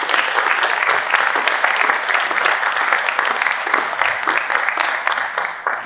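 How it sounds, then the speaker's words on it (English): An audience at a Redmond mayoral candidate forum breaks into steady, dense applause that holds at full strength for the whole stretch and thins slightly at the very end. "let's give a round of applause for our"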